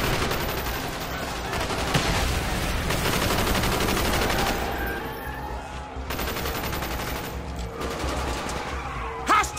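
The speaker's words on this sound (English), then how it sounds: "Bowman, Carlos, lay down covering fire." Covering gunfire in the Call of Duty: Black Ops campaign street fight rattles as sustained, dense automatic fire from several weapons, loud and continuous with brief lulls.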